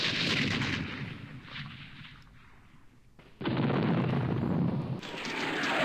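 Heavy 120 millimeter artillery rounds land in a Middle East war strategy game, loud sustained booming rumbles and broadband crashes, with a brief lull before another long, full-strength barrage.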